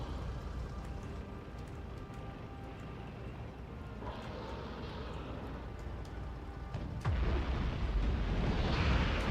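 A tank in the factory-building game Factorio is destroyed by explosions, heard as a steady rumbling bed of game noise that surges into a louder, heavier blast near the end.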